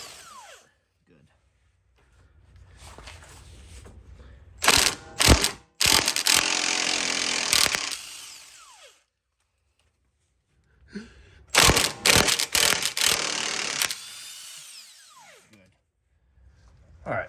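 A ratchet loosening ball joint nuts on a Honda CR-V, two bursts of loud, fast close clicking with sharp knocks in between, separated by quiet pauses and light handling noise.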